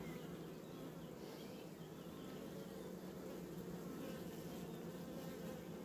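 A dense, steady drone of many honeybees buzzing close by at an open hive, continuous and unbroken with no voices.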